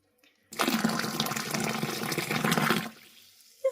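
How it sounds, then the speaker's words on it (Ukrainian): Boiling water pours into a limescale deposit to start a descaling reaction, a steady splashing gush lasting a couple of seconds before stopping, close and fairly loud. "Цей окріп додається для того, щоб пішла реакція."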